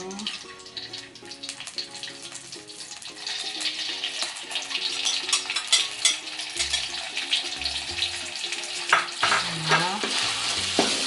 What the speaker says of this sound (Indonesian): Udah panas, kita masukin cabenya